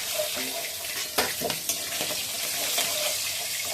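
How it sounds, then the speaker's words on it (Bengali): Fish frying in hot oil in a pan gives a continuous loud sizzle, with a few sharp clatters as pieces are turned and lifted out. "মাছ ভাজা হয়ে গেছে, এবার মাছগুলো তুলে নিচ্ছি।"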